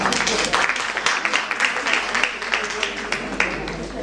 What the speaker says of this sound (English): Monica requires a special clap